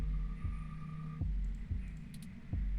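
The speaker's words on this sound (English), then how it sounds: "Your heartbeat is like sonar to me. The louder it pounds, the faster I race to stop it." Heartbeat thumps from the video game 2064: Read Only Memories, a steady series of low pulses about every 0.6 seconds over a constant hum, with a few faint electronic blips.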